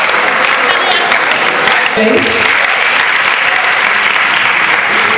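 A large audience gives loud, sustained applause at a Prothom Alo Bondhu Mela gathering in Natore. The clapping is dense and steady throughout, and voices are audible beneath it.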